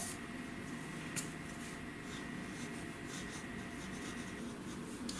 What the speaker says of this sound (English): It has a medium tip nib, and it just writes so beautifully.